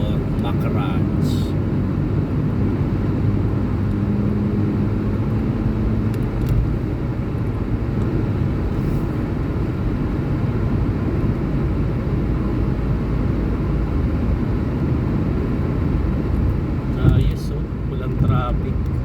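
Steady road traffic on the Northern Ring Road in Riyadh, a continuous low rumble of cars passing at highway speed heard from inside a moving vehicle, with a brief louder bump near the end.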